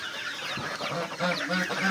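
Several chickens cluck and chatter close by in quick, overlapping bursts while eating zucchini, with soft background noise underneath.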